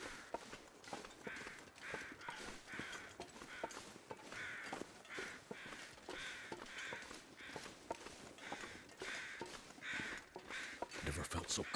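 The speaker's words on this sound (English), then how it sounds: "I hear crows." Crows caw repeatedly in a snowy Interloper-difficulty wilderness in The Long Dark: a fairly faint, rhythmic series of harsh caws at a distance, mixed with soft crunching footsteps that grow louder toward the end.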